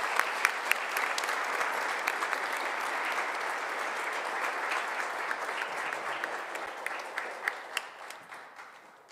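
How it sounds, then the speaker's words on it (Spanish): A church congregation applauds during a weekday Mass, steady dense clapping from many hands sustained throughout, with a few sharper individual claps standing out near the listener. "De un aplauso a Gladys."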